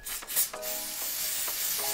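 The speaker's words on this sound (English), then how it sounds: "I'm gonna go in with my water resistant Evan spray." Water-resistant spray is sprayed onto an afro curly glueless wig, making a close, steady hiss with a few short, sharper puffs at the start.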